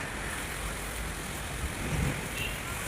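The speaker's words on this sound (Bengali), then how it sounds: "কি জোরে জোরে হাওয়া হচ্ছে দেখুন।" Strong storm wind blows hard outdoors, a dense, steady roar with some microphone buffeting that holds from start to end, with no voices over it.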